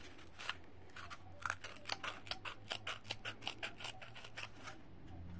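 Mini pocket knife scissors snip through a paper roll in a quick run of crisp, close cuts, a dozen or more rhythmic clicks and slices with no talk.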